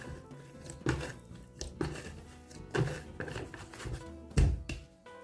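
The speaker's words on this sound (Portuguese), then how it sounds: "E agora aqui eu vou sovar essa massa." Bread dough for chicken and bacon sandwiches being kneaded by hand, with soft rhythmic thuds and slaps against the work surface about once a second and quiet shuffling between them.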